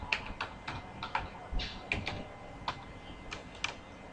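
Keys on a computer keyboard are tapped while entering text in Photoshop, an irregular run of crisp, fairly quiet clicks at close range with short pauses between bursts.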